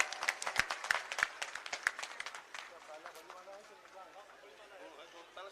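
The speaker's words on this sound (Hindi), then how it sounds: "जोरदार ताली बजाकर स्वागत करो" A crowd at a political gathering in Nagina claps to welcome Akash Anand. Rapid, loud claps come first and then fade into a softer murmur of crowd noise and voices.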